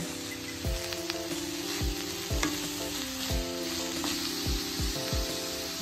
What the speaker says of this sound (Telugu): ఇది కొంచెం వేగాక బీట్రూట్ తురుము కూడా వేసి వేయించేసుకోవాలి.